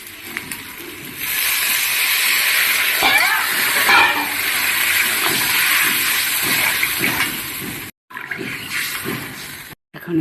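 Water poured onto potatoes and green chillies frying in a pan sets off a loud, sustained hissing sizzle that rises sharply, with spoon scrapes, then cuts out briefly near the end.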